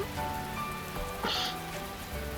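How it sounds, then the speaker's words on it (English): Rain from the visual novel game The Fruit of Grisaia falls in a steady, even wash of patter, with a faint tonal background under it and no voices. "the rain grows steadily strong"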